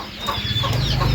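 Chickens clucking at a Thai rural farmyard, several short close clucks in an irregular rhythm over a low steady background hum.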